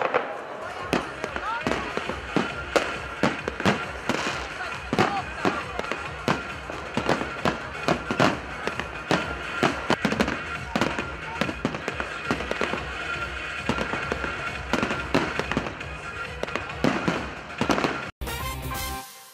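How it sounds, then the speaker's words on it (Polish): Rapid, dense bursts of New Year's Eve fireworks crackle and boom continuously, loud and close, with a crowd murmuring beneath, ending in a brief different noise. "obejrzeli 10-minutowy imponujący pokaz fajerwerków"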